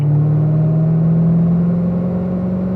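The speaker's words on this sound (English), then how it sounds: "gently accelerating up to 4th in the manual transmission, 5th gear in the automatic" A car accelerates steadily on a race track, its engine a loud, close, sustained drone rising gradually in pitch with no voices.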